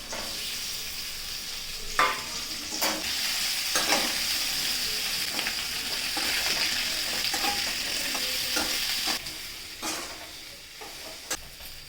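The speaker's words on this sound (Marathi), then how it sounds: "भरलेली कारली तेलात भाजून घ्यायची।" Stuffed bitter gourds fry in oil in a kadhai, giving a steady close sizzle with repeated stirring and scraping knocks throughout, and no talking.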